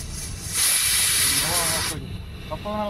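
A pressure cooker lets out a loud, steady hiss of steam lasting about a second and a half, which cuts off sharply before a voice begins speaking.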